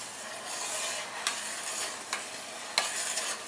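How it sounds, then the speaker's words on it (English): Blackberry jelly comes to a boil in a pot, a soft steady bubbling hiss with a few sharp spoon clicks against the pot, faint and close with no talking. "Okay, it's starting to boil."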